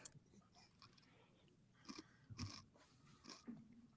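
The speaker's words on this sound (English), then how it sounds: "I got some really extra crunchy potato chips, Gabe." Extra crunchy dark russet potato chips are eaten close to the microphone, with a few sharp crunches and bites and softer chewing between them, quiet overall.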